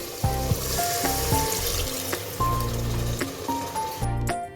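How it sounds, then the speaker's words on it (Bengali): Water poured into a pot of potatoes for mutton biryani, a continuous splashing, filling stream heard close up, with a few clinks of utensils and background music tones. "এরপর আমি পরিমাপ মতো জল দিচ্ছি, যাতে আলু ডুবে সেদ্ধ হয়ে যায়।"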